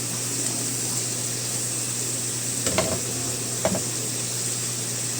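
Chicken liver, gizzard and shrimp sauté in a hot pan with a steady loud sizzle. Two brief scrapes of stirring cut through the hiss, and no one talks.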